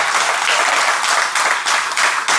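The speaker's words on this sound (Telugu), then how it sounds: "చప్పట్లు కొట్టండి ఒకసారి" An audience at a religious gathering breaks into steady, loud applause that fills the whole moment, dense clapping with slight surges and no talk.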